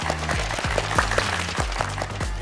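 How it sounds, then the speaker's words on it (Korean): A studio audience at a Korean idol speaking class applauds, a continuous wash of clapping at moderate loudness with a rhythmic background music beat underneath. "우리 큰 박수 한번 주세요."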